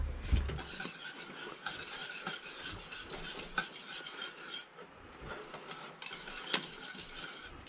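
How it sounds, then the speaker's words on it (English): A whisk clatters and scrapes in a pot of apple butter, quick metallic stirring strokes close by with sharper clinks scattered throughout, steady and with no voices. "I'm just going to use a whisk."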